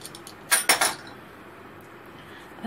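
A knife slices through the center of a crunchy potato roll sheet in a home kitchen, giving three quick bright clinks close together, followed by near silence.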